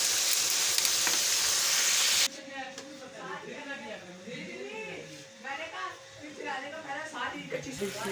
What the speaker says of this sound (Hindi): ऑयल गर्म हो चुका है, चिकन हमने डाल दिया है।